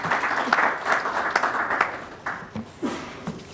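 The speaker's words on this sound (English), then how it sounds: "Once again, a big round of applause for Mr. Singh." Audience applauding at an international galvanizing industry conference, a moderate wash of clapping that rises and falls in waves and thins out toward the end, with a few separate claps left.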